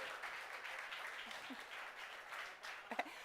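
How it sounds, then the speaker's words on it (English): Applause at a proptech innovation camp closing event, a dense steady patter of clapping from an audience that continues for a few seconds and fades near the end, with faint voices underneath. "Round of applause."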